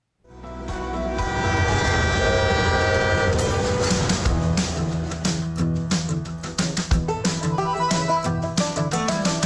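A train sound effect with a sustained, loud horn blast over rolling railcar noise and rhythmic clickety-clack, steady and close throughout with no voices.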